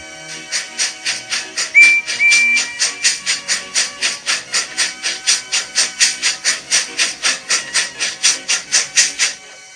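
A steam locomotive chuffs steadily in a fast, even rhythm of sharp hissing puffs, with a brief whistle early on, loud and close.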